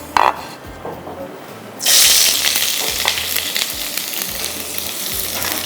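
Onions for tarka rice hit hot oil in a pan with garam masala, a sudden loud hiss that then settles into continuous bright sizzling, with a short clatter just before.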